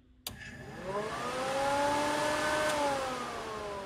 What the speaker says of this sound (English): if I take this off and I just touch it to the housing here, the fan should run.